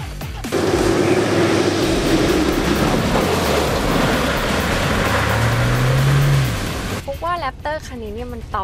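Ford Raptor pickup engine heard from inside while driving, a loud, dense roar that swells and holds for several seconds before easing off, followed by a person talking over quieter cabin noise.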